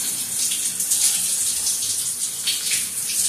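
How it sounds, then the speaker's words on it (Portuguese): Strong, steady water flow gushing from a Lorenzetti Tradição electric shower, a loud continuous hiss from start to finish with no voices over it. "a água aqui é forte pra caramba"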